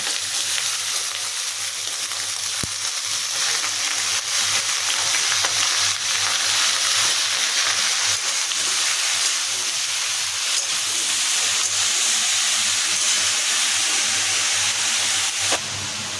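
Elephant foot yam stems and leaves fry in a hot wok, making a loud, even sizzle and hiss that holds steady for about sixteen seconds with no talking.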